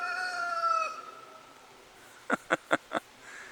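A rooster crows, then four quick, sharp calls follow in a row, fairly close, with a quiet gap between.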